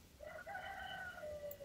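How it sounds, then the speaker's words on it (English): Roosters crowing outdoors, one long drawn-out call with a second bird overlapping, heard at moderate distance over steady low background noise. "Y'all hear all these roosters crowing?"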